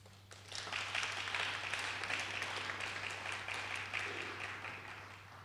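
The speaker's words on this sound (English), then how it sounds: "So give yourself a round of applause." Graduates applauding themselves at a 2015 Gateway To College graduation ceremony, a sustained crowd clapping that swells in after a brief pause, over a low steady electrical hum.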